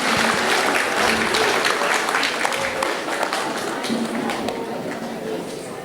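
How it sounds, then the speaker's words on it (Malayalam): A hall audience claps loudly and continuously for a student receiving an award at an Onam community celebration, a dense, sustained wash of applause with no pauses. "ഒരു കയ്യടി ആവാം"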